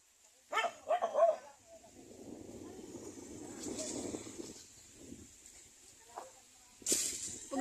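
Several dogs barking on a farm, a few sharp barks near the start and another burst at the end, with voices talking in between.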